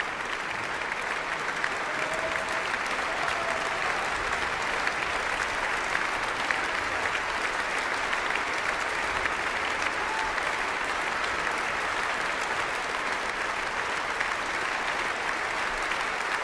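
A concert audience gives continuous, sustained applause, a dense, even wash of many hands clapping that never lets up, loud and enveloping throughout, with no music or speech.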